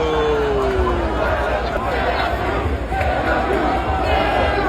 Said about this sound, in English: outside it was hectic. We had to make our way through the entire crowd just to get out